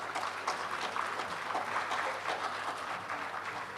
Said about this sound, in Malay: Kita berikan sekali lagi tepukan kepada untuk Asy'ari Abdul Rahman dan puan-puan